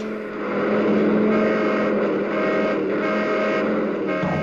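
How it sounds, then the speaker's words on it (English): A steady stream of cars driving past in traffic, a loud, continuous, close engine roar with a slight rise and fall and no speech. "we had to practice dodging traffic"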